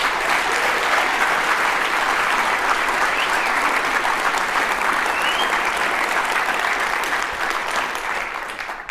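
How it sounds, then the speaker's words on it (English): Audience applause at the closing of the MM22UK conference, a loud, sustained wash of clapping from a large crowd that tapers slightly toward the end. "Big round of applause."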